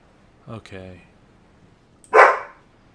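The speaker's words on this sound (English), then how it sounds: "Yes, dog." A dog barks nearby with a short yelp, then a few low woofs, then one sharp louder bark after a pause; a voice also speaks briefly.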